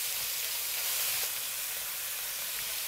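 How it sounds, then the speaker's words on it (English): Garlic and shallot frying in a little oil in a pan, a steady close sizzle and hiss running throughout with no one talking. "I'll start to fry our garlic and shallot. Add a little bit of oil."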